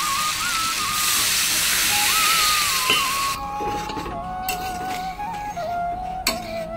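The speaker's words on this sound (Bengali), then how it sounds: "বন্ধুরা আমি জলটা দিয়ে দিয়েছি" Water poured into a hot pan of fried yam and potato curry bursts into a loud steaming hiss that holds for a few seconds, then drops abruptly to a quieter bubbling simmer with faint clicks and a thin whistling tone.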